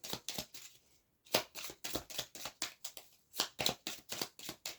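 Tarot-style cards handled and shuffled during a card reading, a rapid series of crisp riffling and flicking bursts with a brief pause, close and fairly quiet, no talking.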